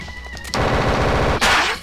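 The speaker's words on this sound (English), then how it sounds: "See, that's what the Gatling Gun does." Gatling gun fire from the video game Recettear, a loud rapid rattling burst of evenly spaced shots lasting about a second, cut off briefly, then followed by another harsh blast.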